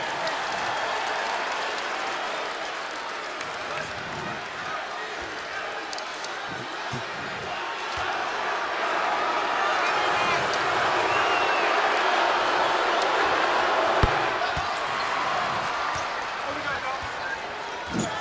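Basketball arena crowd at an NBA game between the Boston Celtics and New York Knicks, a steady roar of crowd noise with applause and ball bounces, sustained throughout under faint talk.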